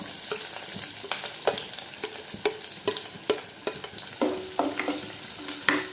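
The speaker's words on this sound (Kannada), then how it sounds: "ಈಗ ಎಣ್ಣೆ ಬಿಸಿ ಆಯಿತು, ನಾನು ಈರುಳ್ಳಿಯನ್ನು ಹಾಕ್ತಾ ಇದ್ದೀನಿ." Onions frying in hot oil in a pan, with a constant close sizzle and sharp clinks and scrapes of a stirring utensil at irregular intervals, and no talking.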